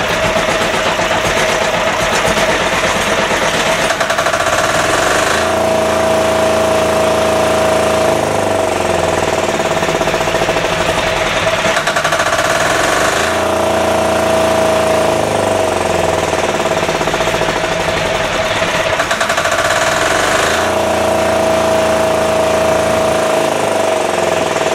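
A 10hp LaunTop Yanmar-clone single-cylinder diesel engine runs on and on, loud and close, with a hard, rapid knocking chug and a faint steady whine riding over it throughout.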